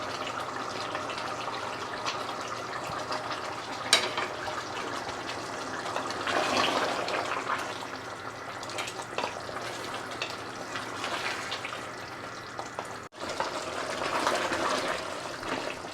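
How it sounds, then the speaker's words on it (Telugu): Fried brinjal pieces go into a simmering country chicken curry in a pan, with continuous bubbling and sizzling, a sharp clatter early on and a brief break near the end, and no voices. "సో ఇందులో నేను మనం ఫస్ట్ ఫ్రై చేసి పెట్టిన వంకాయలను యాడ్ చేస్తున్నాను"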